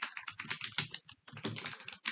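Rapid typing on a computer keyboard, with close, crisp clicking keystrokes in two quick runs separated by a brief pause, quiet and alone with no voices.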